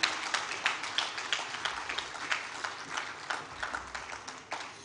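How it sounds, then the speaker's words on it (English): Audience applause at the Abuja International Housing Show, a steady wash of many hands clapping at moderate level from a fairly distant crowd throughout. "Give her a round of applause."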